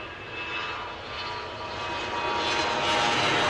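Germanwings jet airliner departing Glasgow airport, a steady broadband engine roar that swells gradually louder and brighter over a few seconds, with no voices.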